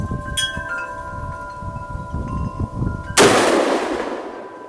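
An AR-15 pistol fires from a 20-round PMag, giving one sharp, loud report that cuts in abruptly and rings out into a fading tail, after a stretch of low hum and rustling.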